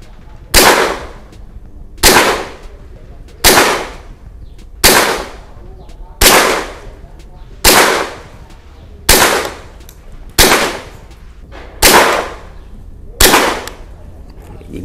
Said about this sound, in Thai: เดี๋ยวผมจะยิงทดสอบนะครับตัวล็อกไอแลนด์นะตัวนี้ก็คือตัว G22 นะครับ